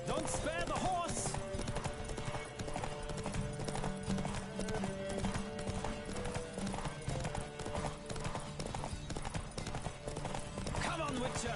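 Racing horses in The Witcher 3 gallop hard with steady, driving hoof clatter and brief whinnies, as riders shout encouragement throughout.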